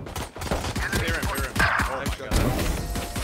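Rapid automatic gunfire from a match on the Split map in the tactical shooter Valorant rattles in quick, continuous bursts, while a player's voice talks over the shooting.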